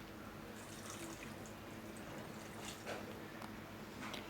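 Water is poured into a pot of cut turnips at home in a kitchen, a soft continuous splashing and trickling heard fairly faint throughout, with a small clatter at the end.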